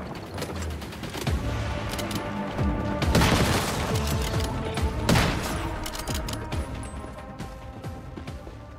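Gunfire from the video game Once Human during an assault on a zombie village: rapid, dense bursts of shots with heavier booms and mechanical clicking, loud and sustained over several seconds.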